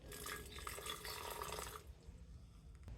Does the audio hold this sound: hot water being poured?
yes